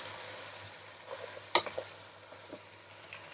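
Sindhi biryani masala being stirred into cooked meat in a pot, a soft continuous frying hiss with one sharp scrape of the spoon midway and a few lighter clinks after.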